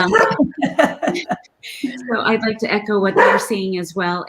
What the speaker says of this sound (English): sorry, that's the dog in the background.